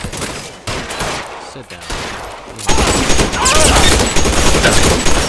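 Rapid volleys of gunfire ring out in the detective video game L.A. Noire, starting as scattered shots and then erupting into a loud, dense barrage, with a brief spoken line early on.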